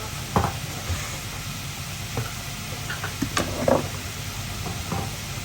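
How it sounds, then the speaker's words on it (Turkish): Stirring of a sizzling pan dish with tomato paste, salt and spices, with soft frying hiss throughout and a few scattered utensil scrapes and knocks against the pan, close by with no talk. "Ondan sonra karıştıracak."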